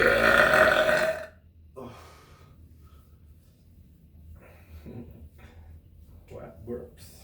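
A person lets out one loud, drawn-out burp during a skincare routine of hydrating the skin, followed by several seconds of near quiet with only faint scattered rustling.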